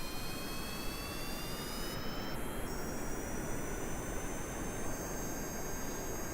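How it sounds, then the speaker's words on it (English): Plane jet engine roaring during launch in the Kerbal Space Program video game: a loud, steady broadband rush with thin whining tones that climb in pitch as the aircraft speeds up, no voices. "and launch our plane."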